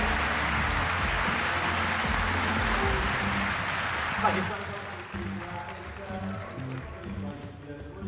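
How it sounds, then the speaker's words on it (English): A crowd applauds loudly for several seconds at the GT World Series 2025 World Finals, the clapping fading out as voices and background sound take over. "One more big applause."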